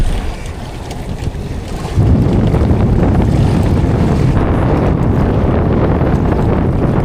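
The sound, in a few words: strong wind at sea while fishing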